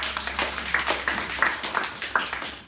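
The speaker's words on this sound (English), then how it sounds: "Give yourselves a round of applause. Give yourselves a clap." A group of children clap together in a short round of applause at a public awareness session, a brisk run of fairly quiet, overlapping claps heard close by.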